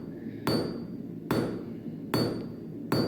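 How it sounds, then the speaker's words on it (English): Heavy hammer blows on hot iron while forging a nail at a blacksmith's anvil, four loud evenly spaced ringing strikes, each with a metallic ring that decays before the next. "So let's forge a nail."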